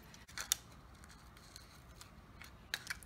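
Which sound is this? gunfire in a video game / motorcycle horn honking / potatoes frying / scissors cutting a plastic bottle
scissors cutting a plastic bottle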